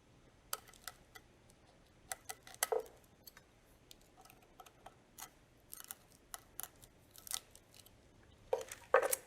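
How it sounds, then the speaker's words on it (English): Scissors snipping a hole in the top of a wax-paper-wrapped chocolate-dipped dessert, a series of small, sharp, close clicks spaced irregularly in a quiet room, clustering near the end. "Cut a hole at the top"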